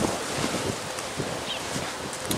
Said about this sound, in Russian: сегодня прям такой ветер